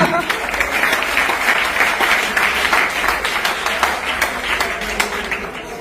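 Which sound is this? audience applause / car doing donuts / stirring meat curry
audience applause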